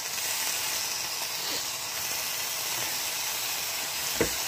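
Bacon strips frying in a pan give off a steady, close sizzle and hiss that holds evenly throughout, with a faint soft pop near the end.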